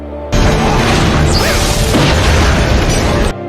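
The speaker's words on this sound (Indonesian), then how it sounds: "sebuah ledakan besar terjadi membuat Spider-Man harus segera pergi" A huge explosion in a Spider-Man film, a loud sustained roaring blast with crashing debris that fills the scene for about three seconds before cutting off abruptly.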